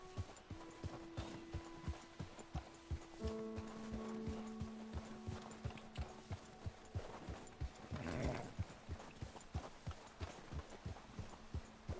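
Horse hooves clip-clop at a steady walking rhythm on open ground in Red Dead Redemption 2, close and even, with occasional tonal game sounds layered over the plodding steps and no talk.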